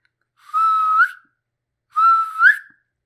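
Two clear, high whistles sound close and loud, separated by a short silence; the second one bends upward in pitch at its end.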